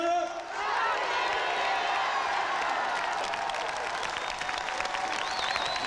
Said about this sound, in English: Let's hear a big rounding cheer when he's here.